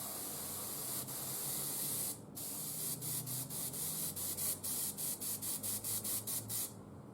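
Aerosol spray paint hisses loudly and continuously while painting a burnt-metal effect on an Imperial Knight miniature, then breaks into a rapid series of short, evenly spaced spray bursts.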